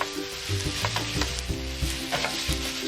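Chicken and vegetables with tomatoes stir-fry in a pan over high heat. The sizzle runs steadily, and repeated scraping and tossing strokes of a utensil against the pan come through close up.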